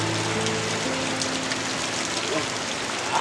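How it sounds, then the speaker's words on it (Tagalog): Steady rain falls in a quiet outdoor spot, a soft continuous hiss of drops that stays even and fairly faint throughout, with a faint low hum underneath. "Yan, maulan no."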